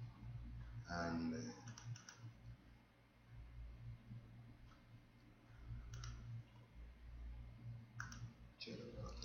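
A password is typed on a computer keyboard in short bursts of soft key clicks. The typing sits under low background hum and brief murmured speech.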